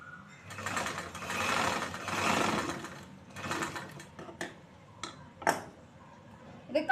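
A sewing machine stitching a blouse cross piece runs in two bursts of rapid whirring, then stops for scattered clicks and clinks of handling the fabric, close by and moderately quiet.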